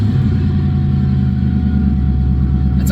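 A car engine with a new cheap aftermarket exhaust, a steady loud low rumble running throughout with no audible crank or catch at the start, close by.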